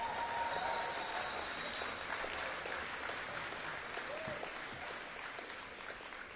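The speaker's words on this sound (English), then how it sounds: "Can we have a round of applause for Impact?" An audience at a college gathering applauds the Impact brotherhood with a dense, even patter of many hands clapping. The sound stays steady throughout and is fairly faint and distant.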